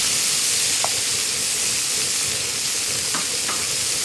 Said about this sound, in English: And we're gonna get that sizzling up.